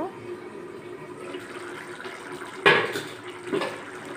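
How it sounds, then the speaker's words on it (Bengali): Water poured into a pot of simmering bean-seed curry in a home kitchen, a short splash and pour standing out over steady background hiss and faint kitchen clatter. "হালকা একটু জল দিব"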